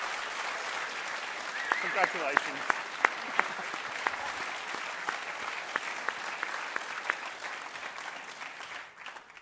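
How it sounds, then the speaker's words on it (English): Audience applause at a live debate on the existence of God, marking a 40th wedding anniversary: steady clapping from a seated crowd with a few sharp individual claps standing out, while someone speaks over it. "That's got to be worth a round of applause, hasn't"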